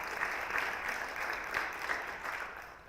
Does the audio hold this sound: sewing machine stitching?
no